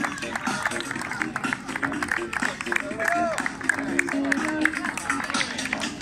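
Steady applause and crowd noise greet a runner crossing the finish line of a nighttime half marathon in the city of Miramar, with a public-address announcer talking over the clapping throughout.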